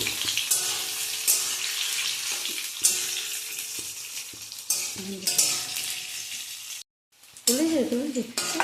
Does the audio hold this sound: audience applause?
no